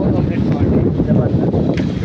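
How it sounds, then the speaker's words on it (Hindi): Strong wind blows outdoors in Peshawar on a rainy day, buffeting the microphone with a loud, continuous low roar that never lets up. "ये देख हवा चल रही है"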